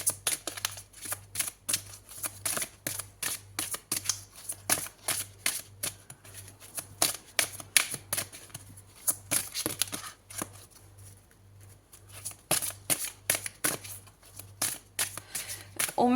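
Tarot cards are shuffled in a steady run of crisp, rapid riffling clicks over about sixteen seconds, close and fairly loud, with a low hum beneath and no talking.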